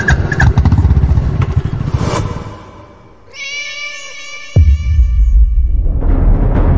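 A motorbike engine catches and roars into a loud, steady rumble that carries on alone after a brief quieter pause filled with a whining, cat-like tone.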